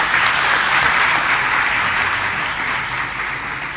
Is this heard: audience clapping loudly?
yes